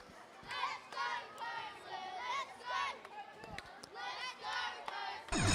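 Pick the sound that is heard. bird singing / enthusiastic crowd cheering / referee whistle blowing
enthusiastic crowd cheering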